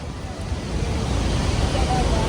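Roaring wash of Iguazú Falls at the Devil's Throat (Garganta do Diablo), a steady broadband rush of falling water with some wind buffeting, continuous and fairly loud, with faint crowd voices mixed in.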